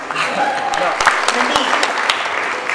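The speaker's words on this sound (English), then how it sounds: "Give Anik a round of applause." Audience applause at a bhangra dance competition, a dense, steady wash of clapping in a large hall with a few louder claps and a voice speaking over it.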